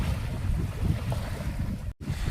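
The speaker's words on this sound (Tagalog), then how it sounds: "yung tahimik na kapaligiran na ang maririnig ko lang hampas ng alon" Ocean waves wash onto the beach of Isla Chica, a steady roaring surf with heavy wind rumble across the microphone, loud and unbroken apart from a brief cut near the end.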